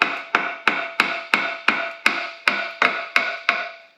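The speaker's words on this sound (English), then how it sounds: "So I usually just give them a little bit of a tap" Hammer tapping beneath a lug to work apart the housing plates of a 13B rotary engine, about a dozen crisp metallic knocks at a steady, even rhythm, each ringing briefly before the next, close and alone.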